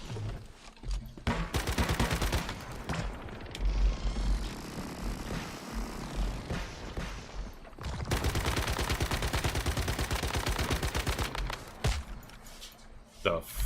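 Gunfire in the survival shooter game Once Human, dense bursts of rapid shots and heavy crackling volleys that fill most of the stretch, pausing briefly midway before another long sustained barrage.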